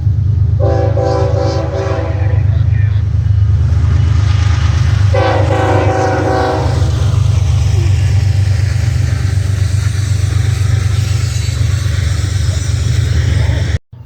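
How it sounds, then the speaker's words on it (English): Norfolk Southern oil train horn show: a loud, close multi-tone air horn blasts twice in long sustained notes over a constant heavy rumble of the passing train, ending abruptly. "Here we get a nice horn show from the crew of an NS oil train."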